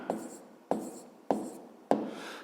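Someone writes out a fifth-grade math solution by hand: four crisp, evenly spaced strokes, each a sharp scratch that fades quickly, close and alone.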